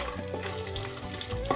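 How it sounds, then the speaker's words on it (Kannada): Cashews and almonds fry gently in ghee over a low flame, giving a steady close sizzle with soft stirring scrapes throughout, no voices. "ಕಡಿಮೆ ಉರಿಯಲ್ಲೇ ಫ್ರೈ ಮಾಡ್ಕೋಬೇಕು"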